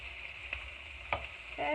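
Salmon pieces frying in a pan give a steady, soft sizzle, with a few faint utensil taps over the hiss.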